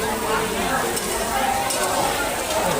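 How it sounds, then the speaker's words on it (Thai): Mussel pancakes (hoi thot) frying in a pan at a temple merit-making fair, a loud continuous close sizzle with occasional scraping and utensil clinks. "เสียงดัง แช่แช่เลยนะครับ หอยทอดครับ"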